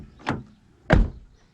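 Two short, firm thuds, a lighter knock then a heavier bassy shut, sound as the rear door of a Toyota Yaris Hybrid closes nearby in otherwise quiet surroundings.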